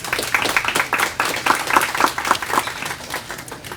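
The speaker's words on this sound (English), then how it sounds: "everyone here should give yourselves a round of applause" Audience applause at a community partnership celebration, a dense steady clapping from a room full of people lasting the whole moment, no speech over it.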